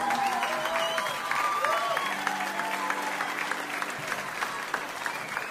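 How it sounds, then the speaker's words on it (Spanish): Warm audience applause for a singer at a reggae club show, sustained clapping from a crowd with scattered cheers and whistles, while a held musical tone sounds underneath. "Fuerte el aplauso."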